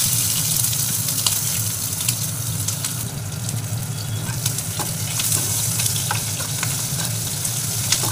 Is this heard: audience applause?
no